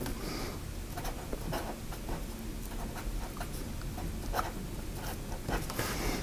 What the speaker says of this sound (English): Whoops, sorry, I wrote off screen.